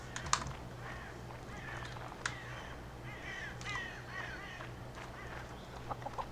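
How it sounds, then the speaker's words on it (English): Cawing crow-like bird calls from a medieval strategy video game, several scattered calls over a steady low hum, moderately loud with brief clicks. "Nice bird sounds."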